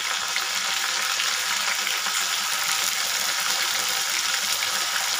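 Ginger garlic paste frying with onion and tomato in a pan for spicy aloo dum, giving a steady, bright sizzle that runs unbroken and fairly close throughout, with no voices.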